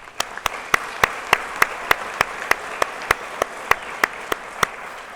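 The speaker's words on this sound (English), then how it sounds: "please join me in thanking all of the individuals in your support system with a round" Graduates' families and friends are applauded with steady, evenly spaced claps that sound almost in unison, a crisp rhythmic beat of roughly three to four claps per second over a soft room hum.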